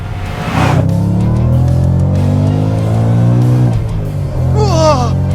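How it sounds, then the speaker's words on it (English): A Shelby Super Snake's supercharged Coyote V8 revs up and holds a strong, rising engine note, then drops and climbs again in a second rev, loud and close with no talking. "Yeah, it's still a coyote. It still sounds like one, but it's got a double shot of testosterone."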